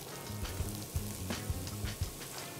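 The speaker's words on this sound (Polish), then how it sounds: "I całość delikatnie podsmażamy." Vegetables sizzle gently in olive oil over rice in a pan, a steady crackling fry with a few soft knocks of stirring throughout, close and alone with no talk.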